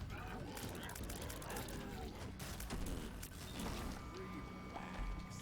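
Spectral tear shots fired in The Binding of Isaac Afterbirth make a dense, steady clatter of rapid mechanical clicks and pops, layered with busy game sound effects for the whole stretch.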